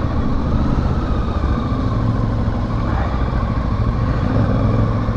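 A MASH X-Ride 650 dual-sport motorcycle with a 21-inch front wheel rides a trail track near Lyon, its engine a steady, loud, continuous drone held close to the microphone with no break.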